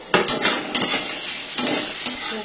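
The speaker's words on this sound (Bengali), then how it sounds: "দেখো গাজরটা মোটামুটি ভাজা হয়ে গেছে, এবার বিনসগুলো আমি অ্যাড করে দেবো।" Carrots and beans stir-fry in a pan: a soft sizzle underneath sharp scraping and tossing strokes from a spatula, coming in short bursts of two or three at a time, close and alone with no voices.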